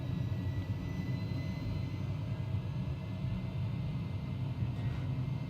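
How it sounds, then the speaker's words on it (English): Airbus A300 jet engines in the X-Plane 11 flight simulator spool up toward takeoff power, a steady dense low rumble with a faint high whine held at an even, fairly loud level throughout. "You're going to hear the engines come alive."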